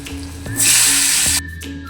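Eggplant pieces dropped into hot oil set off a loud sizzle that bursts in and holds for under a second, then cuts off sharply, with small clinks around it.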